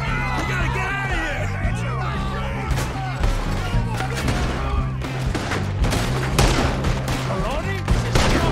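Gunfire rattles in Red Dead Redemption 2, rapid shots and a fusillade crackling over a steady low drone and busy game noise, with voices mixed in.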